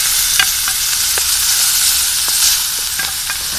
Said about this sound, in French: on entend que les lardons chantent tout de suite